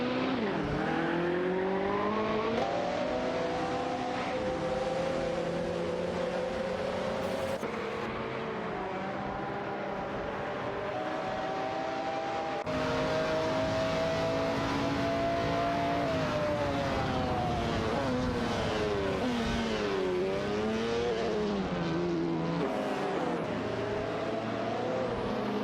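Race cars including a Ferrari 288 GTO and a McLaren F1 howl around a track in a racing game, their engines sweeping up and down through gear changes, loud and steady throughout with no voices.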